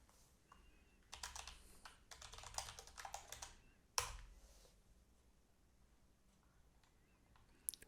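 Bursts of quick clicking keystrokes on a computer keyboard, typed in short runs with pauses and ending in a sharper key tap, close and quiet.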